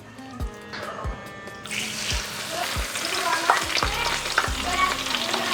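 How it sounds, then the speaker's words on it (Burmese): Pennywort leaves frying in hot oil in a home kitchen, a steady close sizzle and crackle with occasional stirring clinks and soft bumps, loud and continuous without talk. "ကဲပြီးရင်တော့မြင်းခွက်ရွက်လေးတွေကြော်ပါမယ်"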